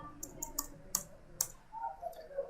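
Soft, close clicks from a computer keyboard during accounting data entry include a few sharper taps, one of them the Enter key, spaced irregularly over a faint background.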